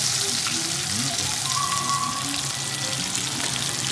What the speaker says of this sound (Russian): жарит мама